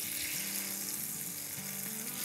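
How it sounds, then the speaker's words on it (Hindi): Ghee or butter sizzling in a hot pan for a dhaba-style dal tadka, a steady close crackling hiss with faint clinks of a utensil, no talking. "मक्खन चाहे तो मक्खन डालें, घी चाहे तो घी डालें।"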